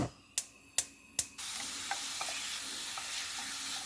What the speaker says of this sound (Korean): 이렇게 볶아지는 소리가 나죠.